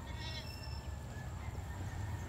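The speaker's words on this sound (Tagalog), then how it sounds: "Ayan po yung mga kambing." Goats on a city farm bleat in a few wavering calls over steady low background rumble and outdoor noise, fairly near.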